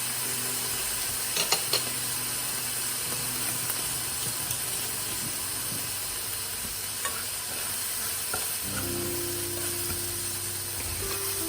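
Soya meat sizzles steadily in a pan as it is shaken, a constant close frying hiss with occasional light metallic rattles and clicks, no voices.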